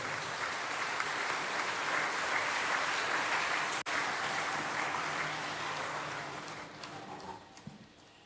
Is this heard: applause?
yes